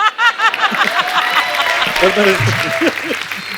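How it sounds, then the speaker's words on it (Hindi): Loud applause from a studio audience for Anil on a Hindi comedy talk show, a dense burst of clapping mixed with chuckles and voices talking over it. "जोरदार तालियां अनिल सर के लिए।"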